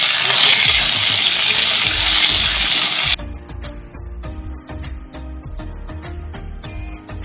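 Sliced bitter gourd fries in hot oil in a pan, first as a dense loud sizzle, then quieter crackling with scraping and stirring taps against the pan.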